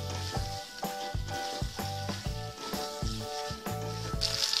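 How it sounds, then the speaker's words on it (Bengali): Potato pieces frying in a pan with spice masala for a raw banana kofta curry, a steady sizzle broken by a regular rhythm of spoon scrapes and clacks as the mixture is stirred, close and moderately loud with no talking. "মশলার সাথে 1 মিনিট মতো এটাকে নাড়াচাড়া করে নিলাম আলুটাকে।"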